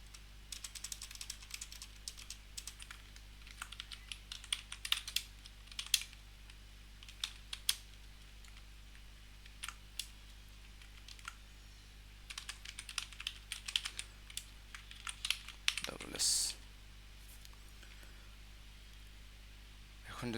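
Keystrokes on a computer keyboard while text inside a C printf statement is edited, in irregular bursts of close, crisp clicks with short pauses, over a steady low hum.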